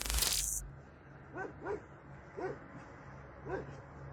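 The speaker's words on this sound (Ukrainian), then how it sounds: "щось гавкають" Several sharp, short barks from a dog some distance away, coming in spaced bursts over a low steady hum, after a brief burst of noise at the start.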